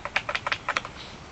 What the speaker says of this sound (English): I'm typing in my password.